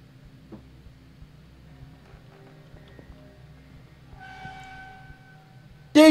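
A train rolls past in the horror video game Fears to Fathom Home Alone: a low, rhythmic rumble with clacking, a sustained horn-like tone partway through, and a sudden loud burst at the very end.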